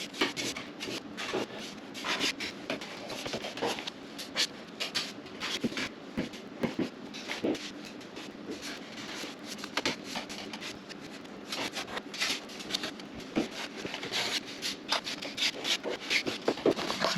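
Sanding dried, hard Elmer's wood filler on wooden window trim, a close steady rasping rub in quick repeated strokes, continuous and moderately loud with no talk.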